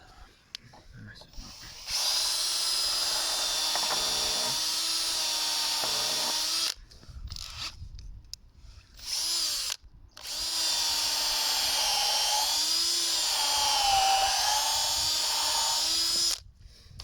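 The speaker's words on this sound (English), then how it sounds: "pre-drilling it because there's a knot there." Electric power drill whining as it pre-drills into a knot in timber during a stone barn renovation, several sustained bursts of a few seconds each with short gaps, close by, with brief talk between.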